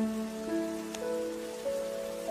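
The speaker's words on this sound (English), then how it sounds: "Can we get out of this rain?" Steady rain falls throughout as a soft, continuous hiss beneath sustained musical tones, with no voices.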